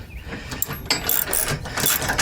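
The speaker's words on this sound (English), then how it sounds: "use your socket, ratchet it in." Socket ratchet clicking rapidly as it tightens a bolt on a bike rack built to carry heavy e-bikes, close and loud, with quick bursts of pawl clicks and no talking.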